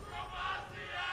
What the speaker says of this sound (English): The crowd yelling Bromacia.